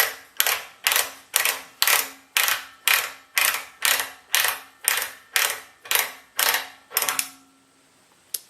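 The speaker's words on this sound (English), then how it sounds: "So now I can just untwist it by hand to take the tool off." Ratcheting clicks from a pipe threading tool being untwisted by hand off a steel pipe, a dozen or so evenly spaced sharp clicks close up, then stopping.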